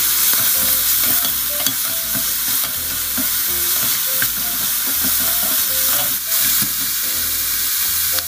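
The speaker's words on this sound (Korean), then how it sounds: "준비된 해물을 넣고 같이 볶을게요" Seafood stir-fried in a hot pan with udon, giving a loud, steady sizzle broken by repeated scraping and clattering of a spatula against the pan.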